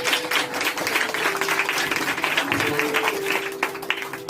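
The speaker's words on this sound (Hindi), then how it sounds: "तालियां बजाओ यीशु मसीह के लिए।" A church congregation claps together in sustained applause during a worship service, a dense continuous patter lasting several seconds with a faint steady tone running underneath.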